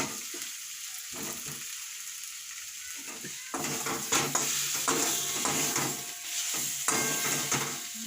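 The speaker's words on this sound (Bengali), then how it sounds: "এবার কষে নিই তরকারিটা বসিয়ে দিচ্ছি" Curry masala of onion, ginger, garlic, tomato and chilli sautés in a pan, quiet at first, then a louder sizzle with scraping stirs that comes in bursts.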